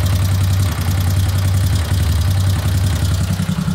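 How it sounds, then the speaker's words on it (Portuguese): A motorcycle engine idles with a mistimed camshaft, giving a loud, close, steady low rumble with a fast rhythmic knocking pulse throughout. "E olha o barulho que ficou na moto aqui agora."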